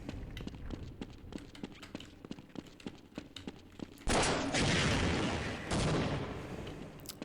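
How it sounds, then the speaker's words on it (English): Rocket launcher fire aimed at a gargantua in the Half-Life game, with a run of sharp repeated bangs and footstep-like thumps, then a sudden loud, sustained roaring blast of explosion noise that fills the last three seconds. "start using the rocket launcher to fire at the gargantua in here"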